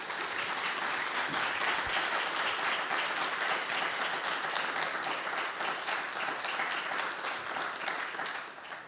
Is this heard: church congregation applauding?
yes